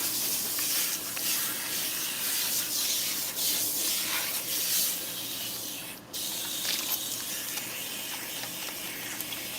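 Water rinsing through hair damaged by Japanese straightening, a continuous rushing spray with rubbing and scrubbing noises and a brief sharp burst partway through.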